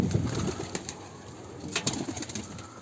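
Soft bird calls, like a pigeon cooing, come through faintly in a couple of short bursts over a steady background hiss.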